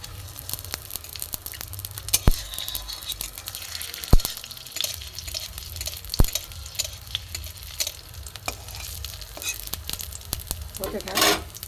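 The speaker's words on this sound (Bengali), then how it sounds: "গ্যাস কমিয়ে কমিয়ে ভাজতে হবে।" Pitha fries in hot oil over a low gas flame with a steady soft sizzle, broken by occasional sharp clicks and scrapes of stirring.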